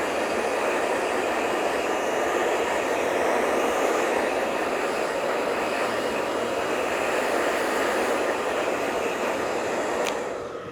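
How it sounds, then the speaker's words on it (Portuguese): Hair dryer blowing on blonde hair after a progressive straightening treatment, a loud steady airy roar that holds constant for about ten seconds before easing off at the end. "E agora é só secar mesmo o cabelo."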